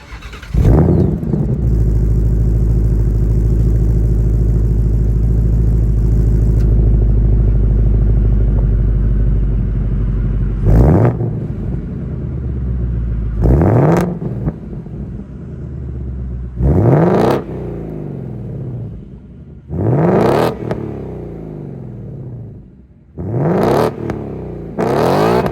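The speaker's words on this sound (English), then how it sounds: "let's fire up this 5-liter V8 and hear how she sounds" A 2022 Ford Mustang Mach-1's 5-liter V8 cranks and fires into a loud, deep idle, then snaps through a series of sharp revs separated by falling, burbling pauses, heard up close and alone.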